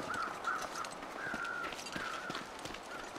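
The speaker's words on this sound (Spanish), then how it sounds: "Se oyen los cuervos por aquí cerca." Crows cawing in a snowy wilderness survival game, a series of short harsh calls repeating irregularly over a faint ambient background, moderately distant and without speech.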